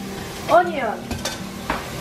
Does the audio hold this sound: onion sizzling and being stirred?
yes